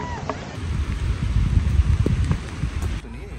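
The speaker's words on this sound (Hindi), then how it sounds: "दोस्तों बहुत तेज बारिश स्टार्ट हो चुकी है" Heavy rain pouring down outdoors near a waterfall, a dense, steady roar with low rumbling and scattered splashes, loud and continuous with no talk.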